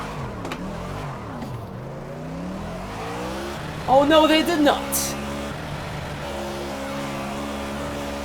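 Cup car engine in the Project Cars racing game idling in neutral with a steady low drone, then revved sharply in a short burst around the middle before settling back, while someone talks over it.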